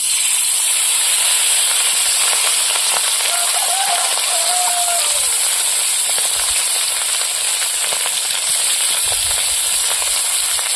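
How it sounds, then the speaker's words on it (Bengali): Small fish frying in hot oil in a wok-style karai, giving a loud, steady, dense sizzle that holds without a break throughout. "এবার মাছগুলো ভেজে নেব।"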